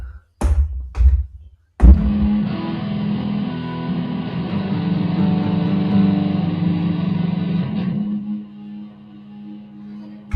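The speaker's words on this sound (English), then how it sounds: "too much distortion with that one" A sound fed through a distortion effect unit, a few sharp knocks giving way to a loud, sustained, buzzing distorted tone that holds for several seconds before fading, alone with no talk.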